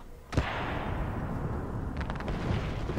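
Video game weapon fire: a sharp blast followed by a broad rumbling roar, then a quick series of rapid cracks, loud and close over a continuous noisy background.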